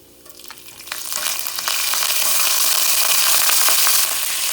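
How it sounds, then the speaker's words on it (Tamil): Mustard seeds, cumin and curry leaves drop into hot oil for a bottle gourd kootu, the quiet pan bursting into a loud, dense sizzle and crackle with popping that holds steady near the mic, no voices. "இதில் வந்து நம்ம எடுத்து வச்சுருக்க கடுகு, அப்புறம் சீரகம், கூடவே வந்து கருவேப்பிலையும் ஆட் பண்ணிடலாம்"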